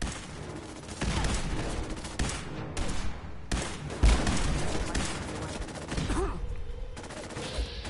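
Video game gunfire from a player shooting at an enemy, dense bursts of shots running through most of the clip over game sound and music, with voices talking at times.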